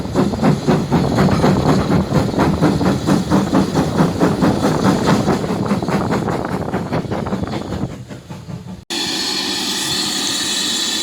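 A heritage steam locomotive, 80080, runs steadily with a rhythmic rumble and chuffing pulses, loud and close, then the tone shifts abruptly near the end.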